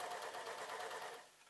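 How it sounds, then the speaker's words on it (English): Sewing machine stitching an unlined, collarless jacket, a fast steady whirring run of stitches that slows and fades at the end, close and fairly quiet. "So once that's lined up, I can literally start sewing"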